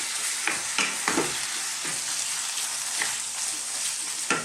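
Garlic and ginger paste frying in a pan for a lamb and eggplant curry, a dense, loud, close sizzle with repeated stirring scrapes every half second or so, no talking.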